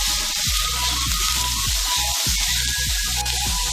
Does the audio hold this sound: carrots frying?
yes